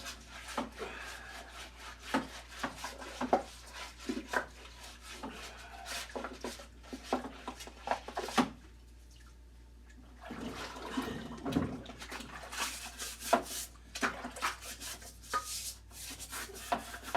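A brush scrubbing the ports of a Cat 60 cylinder head, irregular bristly scraping strokes with a short pause partway through, close up, over a low steady hum.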